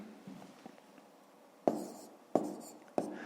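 A pen writes numbers on paper while working a fifth-grade arithmetic exercise. Soft faint scratching is followed by three distinct, louder strokes spaced about a second apart, each fading quickly, in a quiet room.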